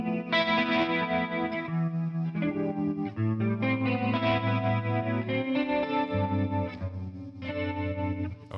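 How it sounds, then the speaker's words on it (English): Electric guitar through a ToneX Matchless Laurel Canyon capture with chorus effect plays sustained, shimmering chords and bass notes with slight distortion, steady and close with no talk. "Chorus makes things brighter."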